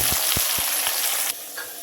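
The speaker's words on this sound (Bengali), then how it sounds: "পেঁয়াজটা বাদামি রং করে ভেজে নিচ্ছি।" Onions browning in hot oil, a dense close sizzle with a few soft knocks from a stirring utensil, loud and continuous before easing slightly near the end.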